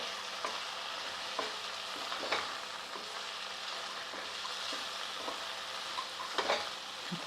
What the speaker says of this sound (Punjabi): ਇਹਨੂੰ ਹਲਾ ਲਾਂਗੇ ਪਹਿਲਾਂ ਚੰਗੀ ਤਰ੍ਹਾਂ ਥੋੜੀ ਜਿਹੀ ਜਿਹੜੀ ਵੀ ਹਲਦੀ ਪੱਕ ਜੇ